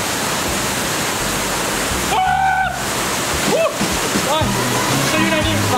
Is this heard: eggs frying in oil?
no